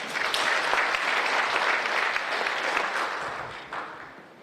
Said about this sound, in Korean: 여러분, 두 줄 박수로 맞이해 주십시오.